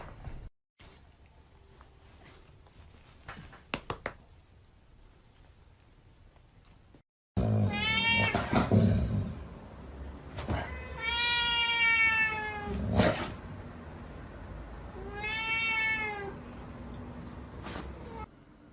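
A cat meows several times, loud and close, in drawn-out repeated calls after a quiet stretch with faint background noise.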